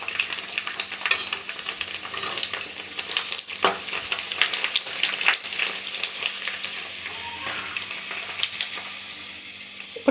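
Puris fry in hot oil, giving a loud, close, continuous sizzle and crackle with occasional bursts and stirring clatter, steady throughout without talk.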